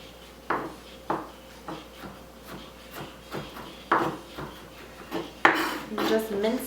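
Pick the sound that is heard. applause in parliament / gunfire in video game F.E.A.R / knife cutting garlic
knife cutting garlic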